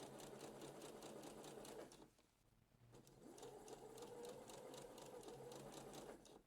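Close sewing machine stitching bias binding onto a neckline of a bias-cut top, a rapid steady motor hum and needle chatter that stops for about a second, then resumes at an even pace, with no talk.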